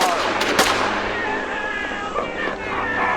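Gunfire sound effects in a horror radio drama set on a ship during a boarding battle, with a sharp loud shot near the start over a continuous busy din of battle noise and shouting voices.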